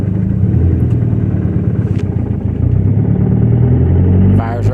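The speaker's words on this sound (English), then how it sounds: "So here I am trying to start the car." A Honda car's engine turns over and runs, a loud low rumble that holds steady and then cuts off near the end, with someone talking over it.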